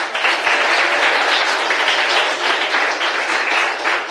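A church congregation applauds during a sermon, many hands clapping in a loud, continuous roar that holds steady for several seconds without speech.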